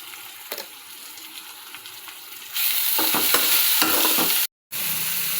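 Tomatoes with salt and turmeric fry for poha upma, a soft sizzle that swells into a louder, steady frying hiss with scraping stirs, broken by a brief gap near the end.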